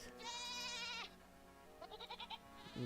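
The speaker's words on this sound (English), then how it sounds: "That's a little baby goat." A baby goat bleats in a game setting. One long wavering bleat comes first, then a run of short stuttering bleats, fairly close and alone with no speech.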